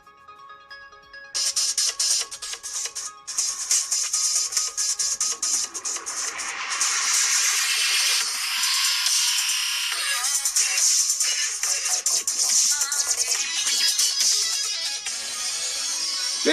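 Ringtone plays loudly through the speaker of a Sony Xperia XA Ultra phone, a bright, busy synthetic melody that starts after a brief quiet moment and continues steadily with some hiss.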